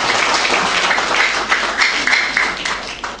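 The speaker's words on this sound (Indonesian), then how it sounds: "marilah kita berikan aplaus kepada dua narasumber yang telah hadir di tengah-tengah kita" An audience at a religious book discussion event applauds two guest speakers, a continuous burst of clapping that swells and gradually thins out.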